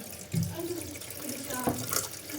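Water pours steadily from a tap into a pot of rice for washing before cooking, a continuous splashing flow with a few clinks, close by.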